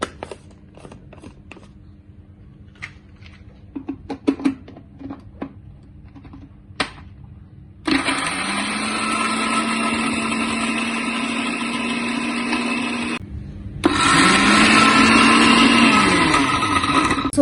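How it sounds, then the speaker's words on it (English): An electric food grinder blitzes macadamia nuts for granola in two loud, steady whirring bursts, the second after a brief pause, following quieter clicks and handling noises. "These are macadamia nuts. Okay. You want to grind them so that they are a bit smaller."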